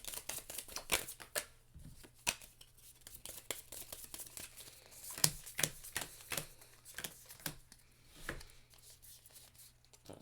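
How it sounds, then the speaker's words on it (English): A deck of cards for the Legendary deckbuilding card game is shuffled by hand in quiet, scattered bursts of riffles and soft slaps, close by and fairly faint, with no voices. "I gotta shuffle because I don't have a deck at all."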